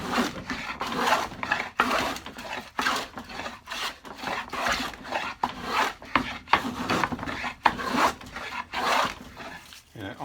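Homemade scrub plane taking thick strokes across pine plywood, each pass a loud close rasping swish, repeated in a steady rhythm of about a dozen strokes with short pauses between.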